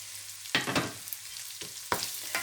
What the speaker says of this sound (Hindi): अब मसालों को भूनेंगे इसमें